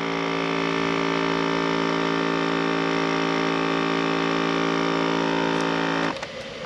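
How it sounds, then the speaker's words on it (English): A food vacuum sealer runs with a steady, droning motor hum, loud and unchanging for several seconds before it cuts off near the end. "That noise you can hear is just the vacuum sealer."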